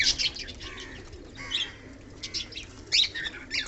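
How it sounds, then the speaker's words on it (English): A male fantail pigeon in a loft feeding its two young, with soft, close squeaky begging chirps and a few brief wing flutters in short bursts. "fantail has two young beautiful birds, and now this male is feeding to their young ones"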